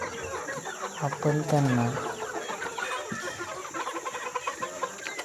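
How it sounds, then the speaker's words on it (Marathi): Free-range village chickens cluck and call close by as they peck at discarded tomatoes, a busy scatter of short clucks with one louder drawn-out squawk, while someone talks over them. "हे पहा आपले गावरान कुक्कुटपालन"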